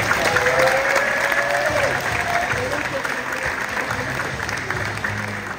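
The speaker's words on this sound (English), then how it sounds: "How about a huge round of applause for every single player?" Sustained applause from a crowd at a spring sports awards ceremony for the players, a steady dense patter of many hands throughout with voices mixed in.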